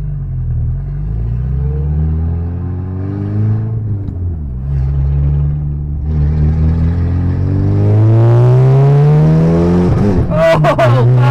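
A Mitsubishi Galant VR4 with a new downpipe revs and boosts under load, its engine note climbing and falling in waves before a sharp rising pull near the end, loud and close with cabin rumble.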